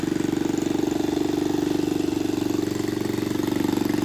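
A 1968 two-horsepower Briggs & Stratton small engine runs steadily at idle, a continuous close putter with an even rapid firing rhythm and no voices.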